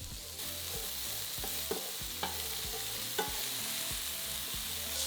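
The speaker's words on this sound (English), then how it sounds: "Fry for 5 minutes, stirring often until the onions have softened." Onions and mushrooms fry with salt and pepper in a pan, a steady loud sizzle throughout with occasional spatula scrapes and light taps as they are stirred.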